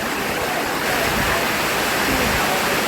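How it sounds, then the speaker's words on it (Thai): Heavy storm rain pours and splashes beneath a roof, a loud, dense, unbroken roar of water close by that swells slightly partway through. "ทุกที่อ่ะฝนมันจะสาดมาตรงเนี้ย นะคะพอมีหลังคาแล้วก็เปียก"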